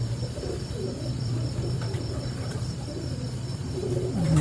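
A champion breeding pigeon coos in a steady low rumble, repeated throaty calls running through the whole stretch at moderate volume against a constant background hum.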